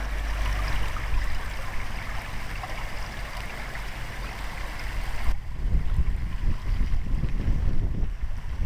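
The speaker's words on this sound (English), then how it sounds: "Babbling brook." Water of the River Piddle, a chalk stream near St Pancras church in Alton Pancras, Dorset, rushing steadily and close as a babbling brook, with a broad continuous wash and some wind buffeting the microphone, and no one talking.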